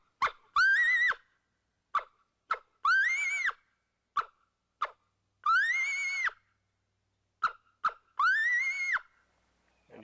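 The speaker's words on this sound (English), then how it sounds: "it's a chop bark." Coyote chop bark calls from a predator call: sharp, short barks alternating with rising, drawn-out yips in an irregular rhythm, clear and close with silence between calls.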